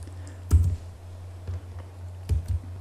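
Several separate keystrokes on a computer keyboard while entering a network switch command, a few distinct clicks spaced out over a steady low electrical hum.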